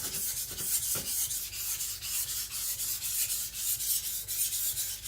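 An IKEA Chinese cleaver is sharpened on a stone with rapid repeated rubbing strokes, a steady close scraping rhythm with no voice.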